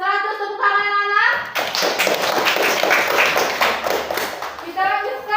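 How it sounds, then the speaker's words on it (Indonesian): Children clapping together in a classroom during an Indonesian lesson, a burst of rapid, dense group applause lasting a few seconds, with a teacher speaking just before and after. "100 tepuk tangan anak"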